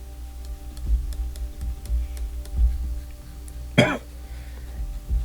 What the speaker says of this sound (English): Sorry, I'm still coughing.